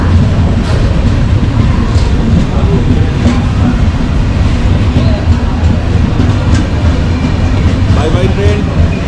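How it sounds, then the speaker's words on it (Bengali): The Kanchankanya Express pulls out of New Mal Junction station with a loud, continuous rumble and rattle of the carriages, heard from on board or close by with no break in the noise. "আমাদের ট্রেন কিন্তু নিউমাল জংশন স্টেশন থেকে বেরিয়ে গেল"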